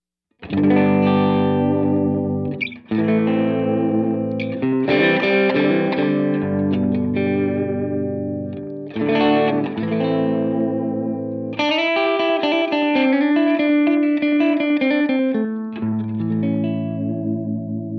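Overdriven electric guitar through a Line 6 Helix plays chords and riffs with a gritty, distorted tone, loud and up close, with short pauses between phrases.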